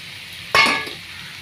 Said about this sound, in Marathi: आतां टोमाट घाता भाजून तें बरें करून भाजयता